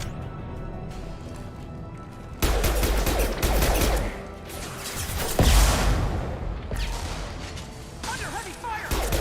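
Gunfire and combat in the video game Mass Effect 2: loud, dense bursts of shots, crashes and whooshes layered over game music, with a voice speaking amid the action.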